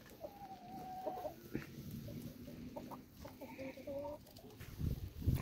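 Several young hens cluck and murmur softly at close range while sitting in the sun on a farm, with scattered short calls and a faint voice in the background.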